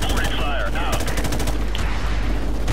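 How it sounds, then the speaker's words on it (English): Rapid bursts of gunfire crackle continuously over a dense, loud Call of Duty 4: Modern Warfare Remastered soundscape on the War Pig mission, with a few whooshing tones sweeping past early on. "I literally walked in front of all the gunfire."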